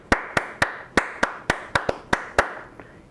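Sharp hand claps, about nine in a row, in a fairly even rhythm with a slight syncopated pair near the end, close and alone.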